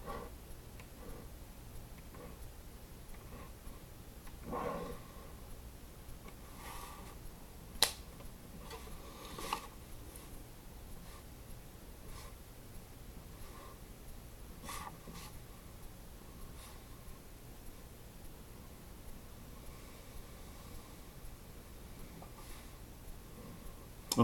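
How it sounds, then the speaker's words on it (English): Pen scratching across paper while sketching a sine graph, a soft continuous scribble broken by a few sharper taps and strokes, close and quiet with no voice. "So I'm going to draw my graph now just to see all our results basically in that range."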